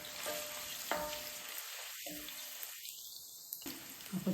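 Mustard seeds and chili frying in oil in a curry pot for a South African pumpkin curry, giving a steady close sizzle with crackles and stirring clinks throughout, no talk.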